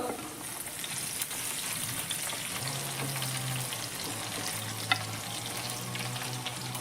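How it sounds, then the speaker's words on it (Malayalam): Fenugreek seeds, chopped garlic, ginger and green chili fry in hot oil for a fish mappas curry, giving a steady, close sizzle throughout with occasional stirring scrapes and a brief clink. "ഉലുവ മൂത്ത് വന്നിട്ടുണ്ട് അതിലേക്ക് വെളുത്തുള്ളി നമ്മൾ അരിഞ്ഞു വെച്ചിരിക്കുന്ന വെളുത്തുള്ളി ഇഞ്ചി പച്ചമുളക്"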